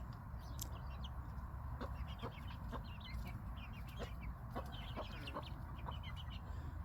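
A flock of thirteen chickens in a coop the day after snowfall cluck softly and intermittently, with quiet, fairly distant calls scattered over a steady low background hum.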